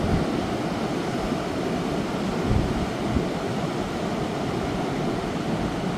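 Ocean waves wash in a broad, steady roar with a slight swell partway through, with no voices present.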